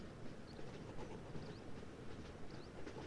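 A train rolls along steadily in the video game Sunset Hills, a continuous low rumble with faint rhythmic clicks throughout, no voices.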